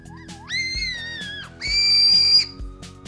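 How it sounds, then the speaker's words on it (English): A ramune cola flavored alien-shaped whistle candy blown like a whistle gives two shrill, wavering whistle tones, the first rising and bending, the second steadier and louder, close and alone. "if you just breathe through and put air through the hole, it's really fun because you'll produce a whistling sound"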